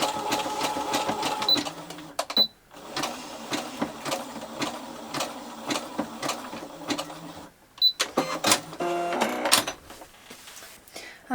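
A sewing machine stitches cotton wrist wraps in rapid mechanical bursts, close and clear, with short pauses between runs of stitching and no talk.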